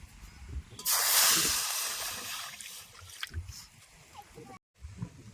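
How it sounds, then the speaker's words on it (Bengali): Water is poured into a hot wok on a stove, bringing a sudden loud hissing rush that fades into a softer sizzle, with a person speaking during it. "এবার কড়াইতে জল দিয়ে দেবো"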